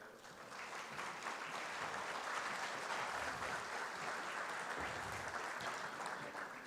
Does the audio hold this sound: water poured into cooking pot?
no